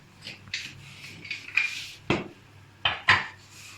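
Sindhi biryani being served from the cooking pot into a dish, with a series of scraping and clinking knocks of a metal spoon against the pot and plate, close and moderately loud, several short bursts.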